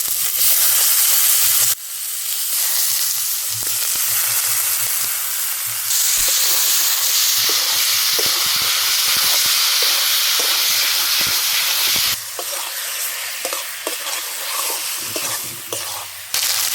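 Chicken skins added to spiced oil and frying hard in a pan, a loud continuous sizzle and hiss with repeated scraping stirs, the crackle dipping and surging as the pieces are turned.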